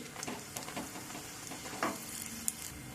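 A pea-stuffed paratha sizzles in oil in a pan and is flipped, a soft steady frying hiss broken by a couple of brief scrapes and taps, close and fairly quiet.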